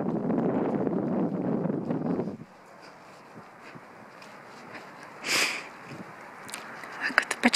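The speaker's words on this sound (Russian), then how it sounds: "Жалко, сегодня ветер сильный." Heavy wind buffeting a microphone for a couple of seconds in Utah, then a quieter outdoor stretch with faint rustles and a few brief noises.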